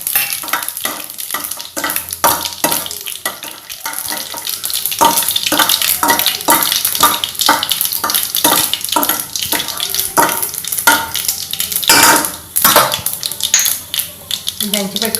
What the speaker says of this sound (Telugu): ఇప్పుడు ఆవాలు, మెంతులు వేగిపోయింది కదా, ఆవాలు టపటపా అంటున్నాయి కదా